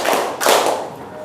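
A class of fifth-grade schoolchildren clapping their hands during a lesson game, two short bursts of close clapping in quick succession.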